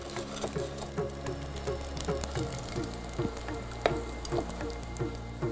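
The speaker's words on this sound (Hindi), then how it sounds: "तेल गरम होते ही इसमें मैं डालूंगा ये लहसुन की कुछ कलियां हैं और इनको हम ब्राउन कर लेंगे" Garlic cloves fry over low heat in hot oil, a soft, continuous sizzle with scattered small pops and clicks, close and steady with no talking.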